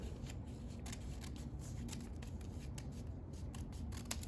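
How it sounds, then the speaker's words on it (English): Scissors trim excess paper while a Japanese paper fan is being made, giving a quiet run of rapid crisp snips and rustles close by. "If you want to take and trim off the excess, you can just trim it and be done."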